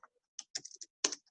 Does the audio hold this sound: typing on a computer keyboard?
yes